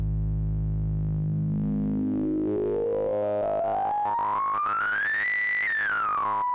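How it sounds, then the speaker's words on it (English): A synthesizer tone on a sine wave setting glides steadily upward in pitch, levels off at a high note, then dips slightly, sounding loud and continuous with no talking. "So let me put it back on the sine wave here"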